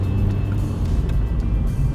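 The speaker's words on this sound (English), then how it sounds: "knock on the engine. This car has rod knock" A car with rod knock in its engine runs steadily at highway speed, giving a continuous loud low drone with no talk over it.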